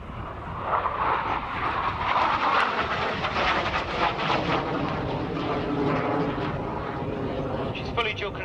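A Hawker Hunter T7A jet trainer at the Yeovilton Air Day display roars loud and steady throughout, a broad sustained engine rush that swells and thins slightly, with a commentator talking over it.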